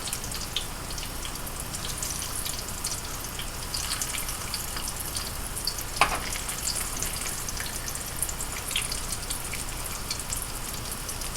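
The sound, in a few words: yam balls frying in oil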